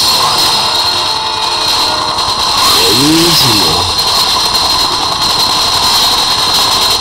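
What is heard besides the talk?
motorbike engine accelerating in Call of Duty Black Ops video game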